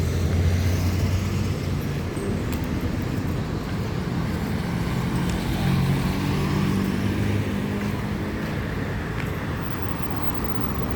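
Oncoming cars and other vehicles on a downtown street in Davao City, a continuous mid-level traffic roar with engines and tyres rising and falling as they pass, steady throughout with no voices.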